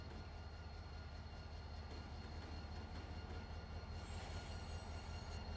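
Trains rolling in the Run8 Train Simulator game, a steady loud rumble of rail cars with wheel noise and a high squeal entering near the end, no talk.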